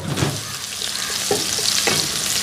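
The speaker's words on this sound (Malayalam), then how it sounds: "ഓയിൽ ചൂടാ. ഇതിലേക്ക് 1 ടീസ്പൂൺ, ചെറിയ ടീസ്പൂൺ ജീരകം, നല്ല ജീരകം, നല്ല ജീരകം ആയിട്ട് അത് ഇട്ട് പൊട്ടുമ്പോൾ പിന്നെ വെളുത്തുള്ളി" Cumin seeds and chopped garlic frying in hot oil, a steady close sizzle with a few soft crackles and stirring scrapes, no voices.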